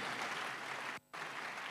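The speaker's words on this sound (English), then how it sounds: "Let's clap for all our resource persons again." Conference audience applauding resource persons, a dense steady wash of many hands clapping, moderately distant, with a brief sharp dropout in the middle.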